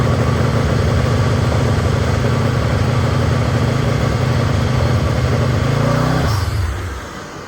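A 1000hp WhiteHorse Crown Vic on 28-inch wheels held on a TransBrake, its engine running loud and close with a heavy, steady rumbling drone that drops away and fades near the end.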